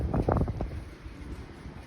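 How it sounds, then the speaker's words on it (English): Outdoor wind rumbles and buffets the microphone during a blustery coffee stop in Beverley, with a brief burst of nearby voices at the start before the low, fluctuating gusts continue alone. "it's a bit windy today"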